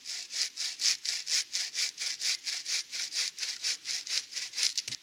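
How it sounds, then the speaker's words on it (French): Steady back-and-forth strokes of a hand saw cutting wood, about four strokes a second, close and rhythmic with no voices. "Donc on va venir couper ici à la scie, des deux côtés."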